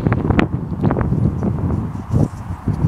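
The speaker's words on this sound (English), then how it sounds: "It's really windy" Strong wind blows across an open field, buffeting the microphone with a steady, loud, low rumble and gusty bumps throughout.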